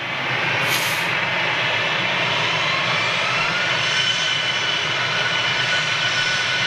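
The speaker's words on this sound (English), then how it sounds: "Airbus A350, Singapore on approach" A Singapore Airlines Airbus A350 jet on approach to Manchester makes a steady, fairly loud engine roar that continues unbroken throughout.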